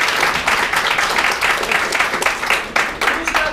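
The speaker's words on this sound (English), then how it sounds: "I want to give a great big round of applause" Audience giving a round of applause at a Medicare data talk before a raffle, a loud, close burst of many hands clapping with a pulsing rhythm that carries through the whole clip.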